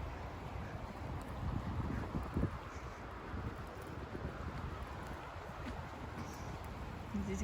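Faint, steady wind blows through a snowy street in Kyiv during a sudden blizzard, a low continuous rush with slight rises and falls.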